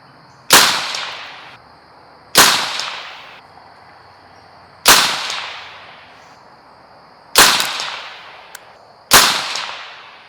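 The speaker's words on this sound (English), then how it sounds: "I'm going to shoot the last 5 rounds right in between those two bottom orange dots" Bear Creek BC-202 .22WMR magnum rifle firing five sharp, loud cracks at irregular intervals of about two seconds, each trailing off into a short echo, with no talking.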